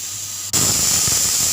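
A pressure cooker on a stove releases a loud, sudden burst of hissing steam after a short quiet moment, continuing steadily, sharp and close.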